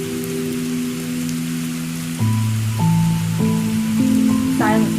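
Steady rain falls outside as a continuous wash of drops, heard alone without voices, while sustained tonal music plays over it and shifts chords every second or so.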